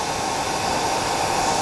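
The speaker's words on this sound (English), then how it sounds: "I use the hairdryer. So if I just push the hairdryer on it, I can then stroke the fibres back" A hair dryer blows a steady, loud whooshing airflow close up, used to push back fibres on a fly-tying pattern, an olive bumble hedgehog fly, with no talking over it.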